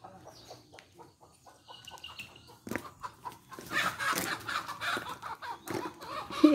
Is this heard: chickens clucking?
yes